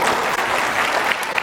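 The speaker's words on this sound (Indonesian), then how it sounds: "Masya Allah, tepuk tangan." Audience applause at an Islamic lecture event, Hijrah Fest in Padang, a dense steady clapping from a large crowd that fills the whole moment without talk.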